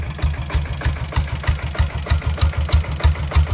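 Diesel engine idling close by, a steady low rhythmic knocking chug with regular firing pulses and no talk.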